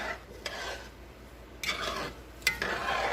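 A spoon scrapes and stirs white rice in a cooking pot, with several short scraping strokes over a soft, steady background.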